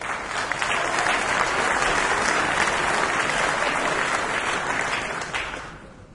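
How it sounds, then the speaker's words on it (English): An audience at the 2012 New Zealand National Brass Band Contest applauds enthusiastically in a hall, a dense, steady wash of clapping that holds for several seconds and then fades out. "I was going to say thank you for that enthusiastic applause."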